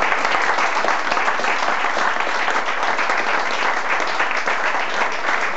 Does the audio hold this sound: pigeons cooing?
no